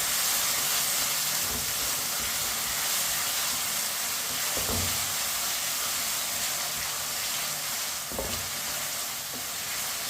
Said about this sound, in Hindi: इसी तरह चम्मच चलाते हुए टमाटर 3 मिनट पकाने से नरम हो जाएंगे।